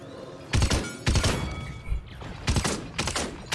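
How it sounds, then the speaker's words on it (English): Bursts of gunfire crack out in a first-person shooter match, four or five sharp clustered volleys with thumps between them, fairly close and punchy. "Someone's shooting me from behind."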